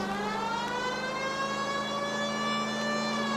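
A police car siren in LA Noire wails in a steady, sustained tone over a low engine hum, loud and close with no talking.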